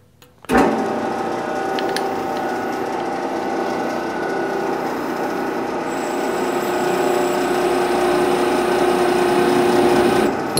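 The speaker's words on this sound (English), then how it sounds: "let's start drilling" A toolpost clamp is drilled on a metalworking lathe: after a short quiet start, the machine kicks in with a loud, steady whirring drone that holds evenly throughout.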